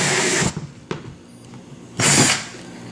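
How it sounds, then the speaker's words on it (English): A power drill run in reverse while drilling a hole for a hydroponic setup, with two loud broadband whirring bursts, one at the start and one near the end, a brief click between, and quieter handling in the gaps. "Now you set the drill to go forward."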